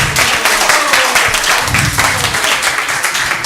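A congregation claps together at a Sunday feast, a dense steady patter of many hands held at an even level, with a faint voice in the mix.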